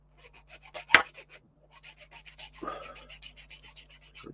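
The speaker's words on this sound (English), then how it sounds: "I'm just doing a bit of filing." Rhythmic rasping strokes of a file on a small part for a Bedford OLBD 5-ton dropside truck model kit, a steady run of close, even scrapes with one brief pause and a louder knock near the start.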